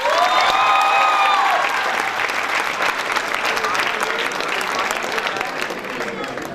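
An audience breaks into sustained applause, dense and loud clapping from a crowd that carries evenly throughout, with a voice briefly audible at the start.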